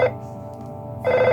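A telephone rings in the SNES game EarthBound: bright, chiptune-style ring bursts open and close the short span, with a steady synthesized music bed underneath.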